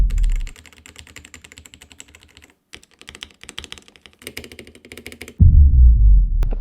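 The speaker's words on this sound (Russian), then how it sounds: "Пока я занимаюсь разборкой клавиатуры и ее подготовкой к будущей модификации" Keycaps come off an AJAZZ AK820 mechanical keyboard with red switches as it is taken apart with a puller, making dense clicking and plastic rattling. A heavy thud near the end sounds close, with no talking.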